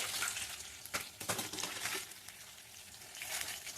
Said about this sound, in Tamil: பக்கோடா மாதிரி சின்ன சின்னதாக போட்டு நல்லா பொரிச்சு எடுத்துக்கணும்.